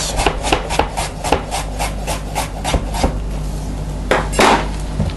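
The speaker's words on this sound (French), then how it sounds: "On coupe nos pommes de terre. Alors on coupe la pomme de terre." Potatoes being sliced thinly with a knife on a board, a quick run of regular close chopping taps followed by a few heavier cuts, with no talk.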